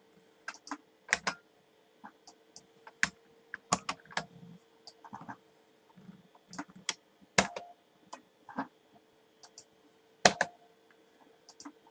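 Computer keyboard typing while editing Python code: irregular bursts of close, crisp key clicks with short pauses between runs, no voices.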